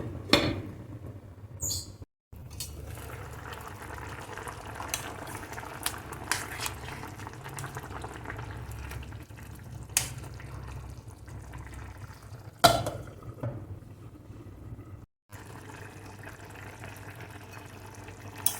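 Chicken simmering in a little water in a covered pan gives a steady, soft bubbling hiss that carries on throughout, with a few faint clicks and short gaps and no voices.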